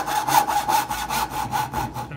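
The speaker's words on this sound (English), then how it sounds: "I'm sawing down to my line." A hand saw cuts a dovetail joint in wood, with close, rhythmic rasping strokes repeating about ten times in quick, steady succession.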